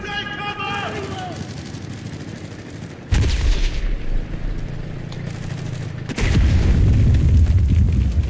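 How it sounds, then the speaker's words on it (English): Grenade and gunfire blasts in the World War II shooter game Enlisted, with sharp booms at about three and six seconds and a continuous rumble of battle, while voices shout over the opening. "Grenade incoming! Take cover!"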